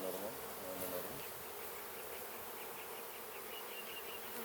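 Honeybees at a hive drone in a dense, continuous buzz, close and steady throughout, with individual wingbeats rising briefly over the swarm's hum.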